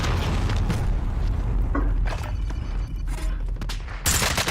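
Dense video game gunfire rattles throughout as a continuous fusillade with scattered booms, loud and close, ending in a sharp heavy burst.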